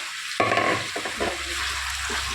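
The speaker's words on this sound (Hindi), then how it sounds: "तो चलिए इसे हम अच्छी तरह से इसे इतना गोल्डन फ्राई करेंगे" Sliced potatoes for aloo ki katli fry in hot oil, a steady broadband sizzle with a sudden louder burst as they are stirred, then clinking scrapes and a continuous crackle underneath, no voices.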